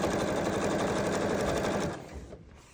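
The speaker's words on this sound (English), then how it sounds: "We're just going to sew right down this side," A sewing machine runs a continuous fast stitch down a 2.5-inch quilt binding strip a quarter inch in, loud and steady, then slows and stops near the end.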